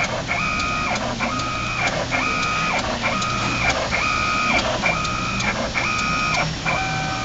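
A 2006 Asymtek Swirl Coat 200 conformal coating machine runs with a steady mechanical drone, while its head moves in a regular repeating cycle of whirring sweeps, about eight in a row, loud and close.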